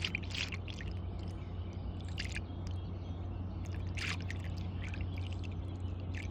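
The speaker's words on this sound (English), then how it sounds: "So I'm going to pour coolant in." Coolant poured into a car radiator, a faint trickling, gurgling flow with scattered drips over a steady low hum, no talk.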